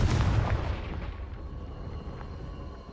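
The Confringo spell explodes against rocks in Hogwarts Legacy, a heavy booming blast up close that rolls off into a fading rumble over a few seconds.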